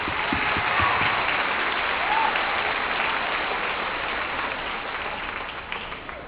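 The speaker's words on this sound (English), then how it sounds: "Can we get a round of applause?" Audience applause at a high school homecoming, a dense, sustained roar of clapping that slowly softens over several seconds, with a faint voice briefly audible underneath.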